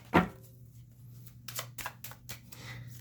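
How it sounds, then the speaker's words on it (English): Tarot deck being shuffled by hand, a quick riffle at the start followed by several short bursts of card flutter and soft slaps, close and fairly quiet. "Give it one more little shuffle here."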